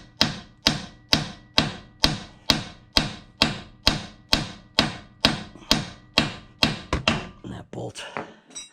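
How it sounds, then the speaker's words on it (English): A 2012 Mini Cooper R60 front strut is tapped into position with a hammer, giving about fifteen evenly spaced, sharp metallic knocks at close range, ending in a few softer, scrappier clinks. "So I'm just gonna tap it slightly down, just to go ahead and get it into position where I need it to be now."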